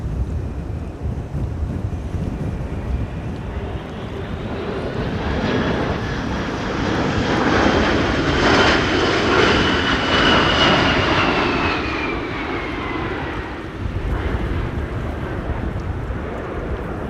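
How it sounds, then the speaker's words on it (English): An Airbus A380 jet roars in to land at Amsterdam Schiphol Airport during Storm Amy, its engine noise swelling to a loud peak with a rising whine, then easing off, all under heavy wind buffeting the microphone. "We'll see the A380 land here"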